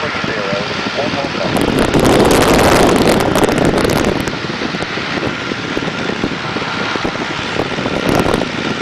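A de Havilland Tiger Moth biplane in flight over a village near Cambridge, its engine droning loudly and steadily under heavy wind rush from the open cockpit, swelling briefly midway.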